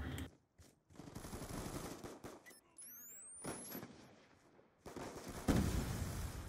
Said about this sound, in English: I'm just shooting that guy nonstop and doesn't give me a single hit marker